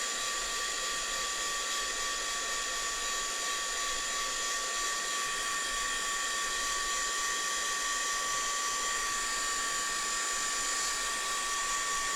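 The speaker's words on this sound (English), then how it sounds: "Don't put your hands in the bits that you haven't put your heat gun over" A heat gun blows steadily over a mixed media altered canvas, a continuous close whirring hiss with a fixed whine, holding unchanged for the whole stretch with no talking.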